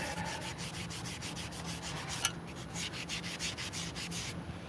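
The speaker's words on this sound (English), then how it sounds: "so this is just a little 120, 200 sanding block" Rhythmic back-and-forth rasping of a small 120/200-grit sanding block rubbing on wood, steady strokes close by with one brief click midway.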